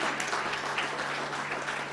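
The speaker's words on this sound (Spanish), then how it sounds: "Un aplauso para Nancy" A congregation at a Sunday school service applauds steadily for two seconds, a dense, even wash of many hands clapping together at moderate volume with no pause.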